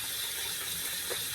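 Water runs and is poured steadily while a shaving brush is rinsed and swirled clear of soap, a continuous close splashing hiss with no voices.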